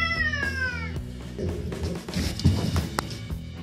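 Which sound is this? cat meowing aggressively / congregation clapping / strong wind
cat meowing aggressively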